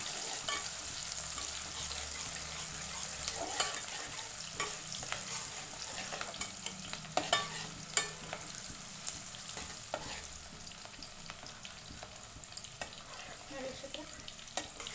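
Ground masala frying in oil with onions for a chicken sambar, a soft continuous sizzle broken by scattered clicks and scrapes of a spoon stirring the pan, heard close and quiet.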